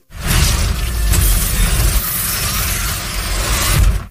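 A technology company's high-rise blows up and collapses in a superhero film scene, a loud sustained roar of shattering debris and rumbling booms that fills the whole stretch.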